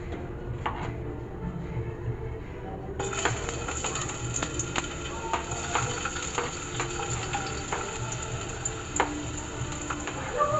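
Chopsuey ingredients drop into hot oil in a pan, which bursts into loud, continuous sizzling and frying with scattered crackles and pops throughout, close up and without talk.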